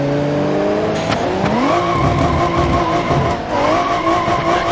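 A loud car engine in the BeamNG.Drive video game revs and surges while the tires squeal and skid, the engine pitch climbing and dipping in sweeps, heard close and alone without talk.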